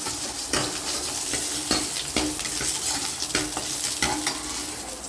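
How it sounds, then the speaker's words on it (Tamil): Curry leaves crackle and sizzle in hot oil during a tempering for eggplant curry, a steady frying hiss broken by several sharp spatters and stirring scrapes, close and alone with no voices. "கருவேப்பிலை தாளிச்சிக்கலாம்."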